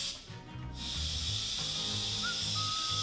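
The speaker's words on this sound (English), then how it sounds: "Let's release the steam manually" An Instant Pot pressure cooker releasing steam manually, a loud steady hiss that begins abruptly after a quiet moment and rushes on without a break, with faint low voice-like murmurs underneath.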